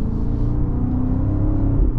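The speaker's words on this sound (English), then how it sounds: "Car sounds good. Good acceleration." A 2024 BMW X5 M60i SUV engine accelerates, heard from inside the cabin as a loud, steady low rumble and whir that holds for the whole stretch.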